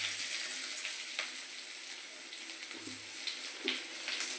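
Chopped onion hits hot oil in a pan, a faint, steady hiss and sizzle with a few small pops and crackles, heard close and quiet without talk.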